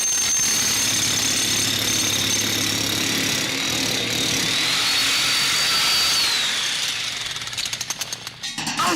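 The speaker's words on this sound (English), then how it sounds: "made their music with anvils, sledgehammers, by breaking glass and banging lead pipes and sheet metal, and of course, power tools." Industrial music built from power tools and struck metal: a dense, harsh, continuous grinding roar like a jackhammer fills the track at high volume, breaking into choppy bursts before it cuts off.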